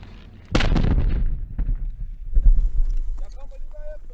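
A loud breaching charge blast from Danish Hussars in Afghanistan bursts in suddenly, then rumbles and echoes, followed by a second, duller explosion; wind buffets the microphone and faint voices come through afterward.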